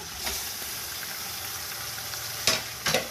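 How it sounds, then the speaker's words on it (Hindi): Chicken frying with ginger and garlic for degi pulao gives a steady close sizzle, with a few scraping stirs near the end. "अब इसकी भुनाई करते हैं।"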